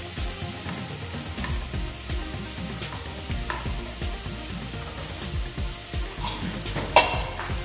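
Onions fry in a pan with a constant crackling sizzle and frequent light scraping, and a louder clank comes near the end.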